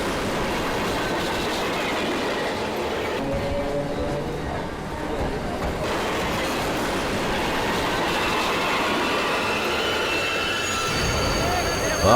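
A train rumbles steadily along the rails with a continuous rattling roar and faint clatter, close and loud, with voices faintly underneath.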